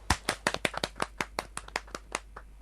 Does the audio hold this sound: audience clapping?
yes